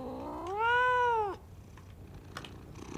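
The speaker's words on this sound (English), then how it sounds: "Oh my God. The cat." A cat lets out one clear, drawn-out meow close by, rising and then falling in pitch, followed by quiet room noise.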